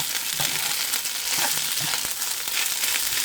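Cooked rice with onion fries in a pan in a Korean-style street stall setting, giving a loud, dense, continuous sizzle with light scraping throughout.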